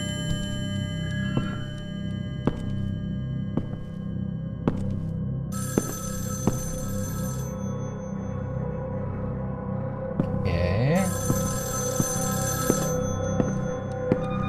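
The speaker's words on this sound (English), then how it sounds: "Phone is ringing." An old-style telephone bell rings in the horror video game Evil Inside, two long bursts of loud ringing over a steady low drone, with soft periodic ticks and a brief creak between rings.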